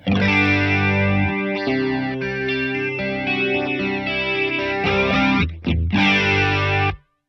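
Electric guitar chords shimmer through a Sonicake Pocket Master chorus effect with some drive, ringing loud and sustained for several strums before cutting off abruptly at the end.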